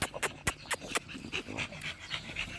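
Kennel dogs pant rapidly up close, with a few sharp yips and short whimpers breaking through the steady breathing.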